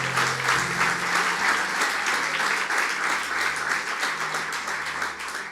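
A church congregation at a Sunday service in Lisbon applauds steadily and loudly for several seconds, a dense, continuous wash of clapping with no talk over it.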